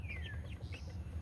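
Two gold-colored chicken pullets give soft, low clucks close by, faint and brief, with a thin high chirp over a steady background hum.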